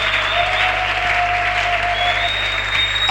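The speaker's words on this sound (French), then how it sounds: "Acclamez pour Jésus." A church congregation applauds for Jesus, giving a dense, continuous wash of clapping from many hands with a faint sustained tone running beneath it; no clear speech.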